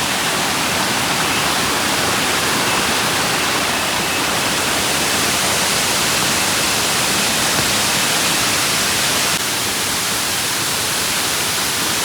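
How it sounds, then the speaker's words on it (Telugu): Natural waterfall at a Coorg resort in the rainy season, a loud, steady broadband roar of falling water that continues unbroken for the whole stretch, with no voices over it. "ఇలాంటి వాటర్ ఫాల్స్ చూస్తున్నా, న్యాచురల్ వాటర్ ఫాల్స్."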